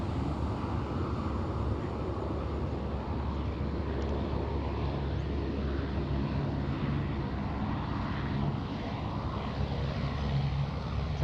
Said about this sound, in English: Beautiful VA 737